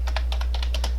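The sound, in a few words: typing on a computer keyboard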